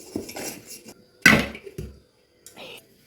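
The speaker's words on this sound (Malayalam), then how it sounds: "അപ്പോൾ ഈ സ്പൂണിൻ്റെ ഈ മൂട് ഭാഗമില്ലേ, അതൊന്ന് സൈഡ് വഴി കറക്കി കൊടുക്കണം." A metal spoon's base is run around the sides of a cake bowl, making a few clinking, scraping strikes of varying loudness with one sharp knock near the middle and short gaps between.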